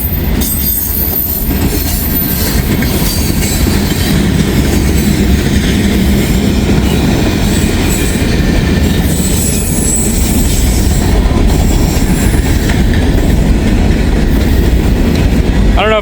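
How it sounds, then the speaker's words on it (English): Norfolk Southern freight train 179 rolls past close by, a loud continuous rumble of cars and wheels with steady clickety-clack and occasional squealing. "This is Norfolk Southern Train 179."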